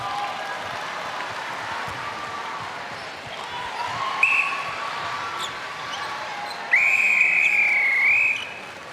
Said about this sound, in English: the whistle goes for the end of the second quarter